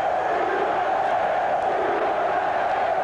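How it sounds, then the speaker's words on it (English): Boxing crowd in Reno, Nevada chanting USA during a 1984 US-Cuba heavyweight amateur bout: a continuous roar with a steady chanting tone, sustained and fairly loud throughout. "Crowd in Reno, Nevada chanting USA"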